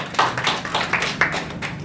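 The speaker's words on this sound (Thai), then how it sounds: "ขอเสียงปรบมือให้บอยครับผม" Applause from the audience at a corporate HRD coaching training session, a brief burst of scattered hand claps with uneven rhythm, fairly close and moderately loud, with no talking over it.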